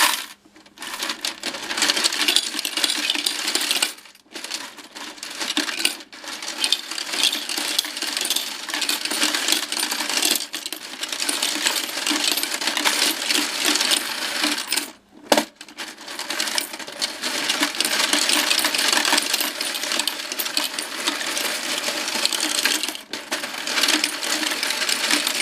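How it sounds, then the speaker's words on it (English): A Royal Sovereign coin sorting machine churns through a handful of coins, a loud continuous metallic clatter and rattle with a few brief pauses between cycles, no talk. "let's get back to work on this sorting machine here. Do a few cycles with that."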